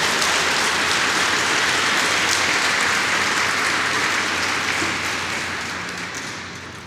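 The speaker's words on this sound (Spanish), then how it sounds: "Y si vas a darle un aplauso fuerte para el Señor" A church congregation applauds loudly for the Lord, a dense sustained wash of clapping that slowly fades toward the end, with no talking.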